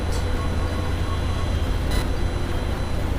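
Amtrak Silver Meteor passenger train 98 by the tracks, a steady low rail rumble with broadband hiss and a couple of brief brighter bursts, under occasional faint talk.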